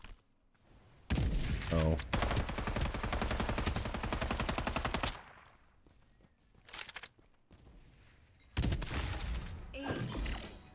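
Video game gunfire: a long, rapid automatic burst close and loud, then a brief lull with a few scattered shots and a short exclamation, followed by another heavy burst of firing.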